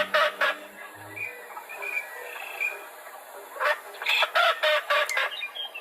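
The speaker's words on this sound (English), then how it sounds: "This is actually a green wing teal female quacks" Female green-winged teal quacking in a marsh, a burst of short nasal calls near the start and a rapid run of loud quacks later, with faint whistles and bird calls in the background.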